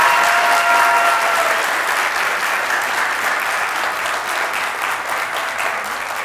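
Sustained applause from a studio audience on an Iraqi television entertainment show, steady and fairly loud throughout, dense clapping with no talk over it.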